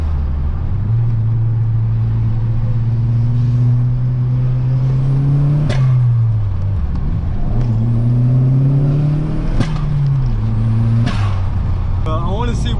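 A modified new hot hatch with an aftermarket dump valve pulls away hard on the street. The engine drones loudly and climbs through gears, with sharp whooshing releases between shifts, heard close throughout.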